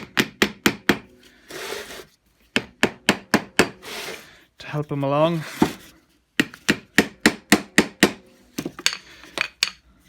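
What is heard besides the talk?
hammer tapping parts of a seized 3-jaw chuck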